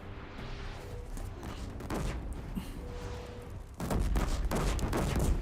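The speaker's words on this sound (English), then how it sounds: "Stop shooting rockets where you think I am" Enemy rockets fire in the video game Horizon Zero Dawn: a few muffled blasts, then a louder, heavier rush of explosive bursts toward the end.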